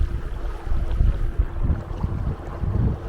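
A dinghy's small outboard motor drones low and steady as the boat crosses a windy channel on Lake Kipawa, Quebec, with wind buffeting the microphone and waves slapping the hull throughout.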